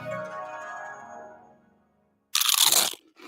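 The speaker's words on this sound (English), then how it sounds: "It's the crisp crunch of that first nacho chip." A crisp, loud crunch of a cheesy nacho chip being bitten, one sharp burst of about half a second following a fading music bed, then a brief smaller crackle.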